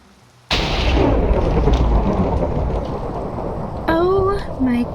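Steady rain pours down with a sudden onset in the modded Minecraft WitchCraft survival game, a dense hiss that carries on throughout while a few short tonal game chimes rise near the end.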